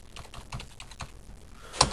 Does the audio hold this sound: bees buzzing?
no